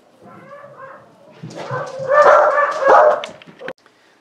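Several dogs bark and yip in a loud, overlapping burst, starting with lighter whines and building to heavy barking before stopping abruptly.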